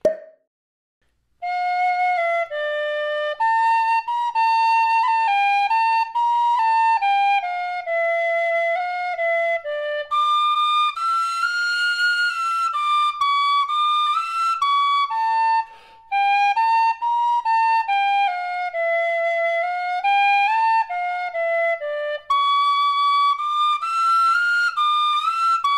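A chromatic tin whistle made by Music Morneau plays a continuous melody that includes semitones fingered with the little finger and thumb, with clear, bright, sustained notes and only short pauses between phrases.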